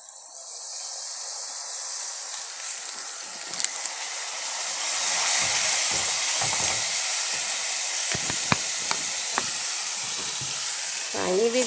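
Kanthari chili pickle with turmeric and vinegar bubbles and sizzles in a pan, a steady close hiss with scattered pops and crackles, louder in the middle and near the end.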